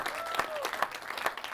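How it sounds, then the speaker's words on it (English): An audience claps for a visiting film director after a screening, a steady crowd applause throughout with a few sharper claps standing out. "Can we give her a round of applause?"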